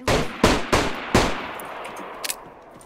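Four sharp gunshots crack in quick, uneven succession in the video game DayZ, each trailing a short echo, followed by two faint clicks and a fading tail.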